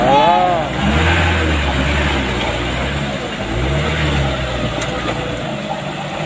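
A palm oil truck's engine labors on a badly damaged, slippery road, a steady low drone with two slow surges in revs, close and continuous with a faint broadband rumble throughout.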